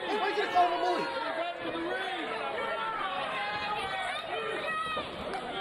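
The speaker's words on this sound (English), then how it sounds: "The crowd really into this match." A wrestling event crowd fills an arena with a dense, steady roar of many overlapping voices, shouting and chattering loudly throughout without a break.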